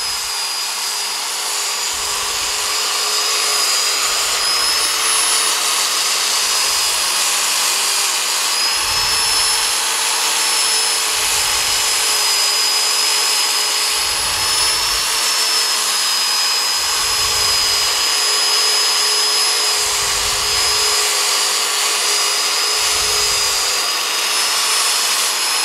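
Coarse sandpaper worked by a power sander gives a continuous loud, rasping whine that persists steadily for the whole stretch, with a faint rhythmic low pulsing beneath it and no voices.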